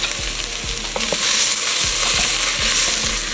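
Loud, close frying hiss as flour cooks in a pot, with repeated scraping strokes of a utensil stirring it at a steady rhythm.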